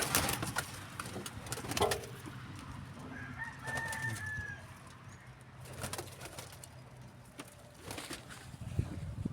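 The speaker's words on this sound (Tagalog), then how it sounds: "Punta tayo sa mga may lahi kong kalapati" Pedigree pigeons kept by their owner coo and stir, with a brief soft cooing call and scattered wing flaps and rustles nearby amid light outdoor background noise.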